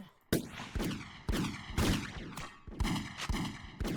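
Gunshots fire one after another in the zombie survival shooter Zombie Raid, about eight sharp, loud reports with ringing tails, spaced at a steady, deliberate rhythm with no voices.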